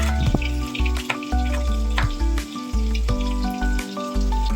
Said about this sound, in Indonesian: Ditambahkan ikan asin udah wangi banget, ditambah sama irisan bawang merah.